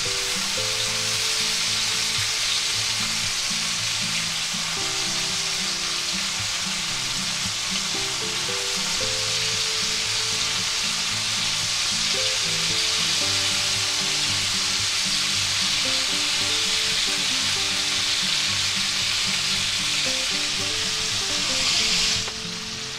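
Chuck roast steaks sizzle steadily in butter in a hot pan, a loud continuous frying hiss with crackling pops and a low cooking rumble throughout, no talking.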